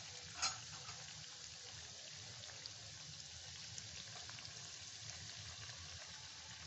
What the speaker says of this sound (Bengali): এটা বেশি লাল করে ভাজতে হবে না, হালকা হালকাই ভাজাটা হবে